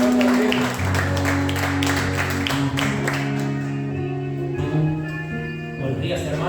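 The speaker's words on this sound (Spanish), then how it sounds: "Un fuerte aplauso" A church congregation applauds at a Sunday service, a dense wash of clapping beneath sustained keyboard chords and a voice speaking over it.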